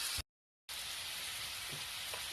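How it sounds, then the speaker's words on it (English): Water bubbles and hisses steadily at a boil in a pot, a dense, constant rushing sound broken by a brief moment of silence near the start. "Water's boiling."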